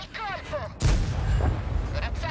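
Heavy artillery fire in a tank video game: one sharp, loud boom followed by a rumbling tail, with faint tonal game sounds before and after.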